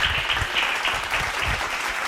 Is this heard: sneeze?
no